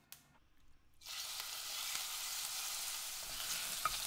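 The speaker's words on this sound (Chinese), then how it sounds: "锅里加一些油，把鸡肉煎香。" Chicken sizzles and fries in oil in a pan, a steady close hiss that starts abruptly after a second of near silence and continues evenly with faint stirring clicks.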